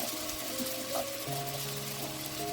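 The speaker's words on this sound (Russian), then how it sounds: "Подливаю воды полстакана и накрываю крышкой" Half a glass of water is poured into a pan of frying pumpkin, making a continuous close trickle and splash over a low background hum, with no talking.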